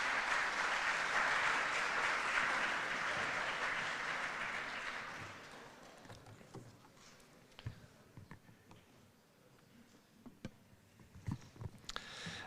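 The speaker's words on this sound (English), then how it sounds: "So please give a big round of applause to Andrei Petukhov from the Health" Audience applause for a speaker at TalTech Orientation Days, a dense broadband clapping that fades after about five seconds, leaving scattered individual claps and small room noises.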